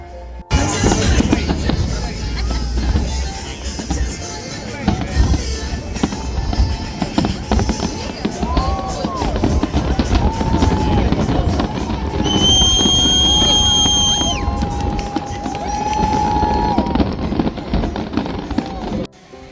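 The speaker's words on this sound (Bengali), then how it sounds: "মিশিগান লেকের আকাশে যেমন আতশবাজি খেলা করছে" Fireworks burst over Lake Michigan at Chicago's Navy Pier, a dense run of cracks and booms amid a large crowd's murmur, with steady chatter and brief whistling tones throughout.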